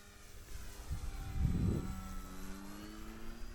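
A Piper Cherokee light airplane's engine drones steadily in flight through gusty winter winds over lower Alabama, a low continuous hum with a brief louder rumble of buffeting near the middle.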